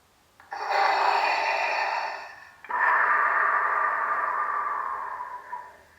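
Two sustained electronic hums swell in one after another from a lightsaber's soundboard, each holding steady before fading as the saber powers on.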